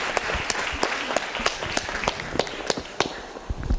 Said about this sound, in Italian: Fate un applauso al primo coraggioso